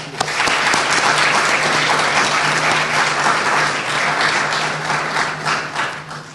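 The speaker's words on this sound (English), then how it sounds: "So let's give them a round of applause." Audience applause at a Model African Union assembly of heads of state: a large crowd claps in a dense, continuous roar, steady and loud for several seconds, with no talking over it.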